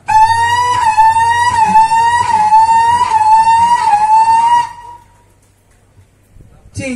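A single voice imitates a building fire alarm: a loud, sustained electronic wail with pulsing harmonics for about four and a half seconds, cutting off into near-silence before a brief sound at the end.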